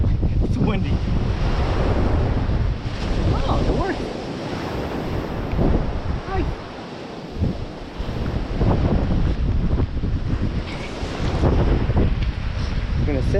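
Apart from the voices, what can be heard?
strong wind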